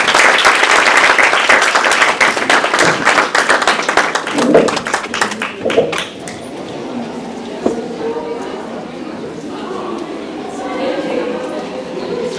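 Audience at a book launch breaks into a dense burst of clapping that fades after several seconds, followed by quieter room sound and a few voices.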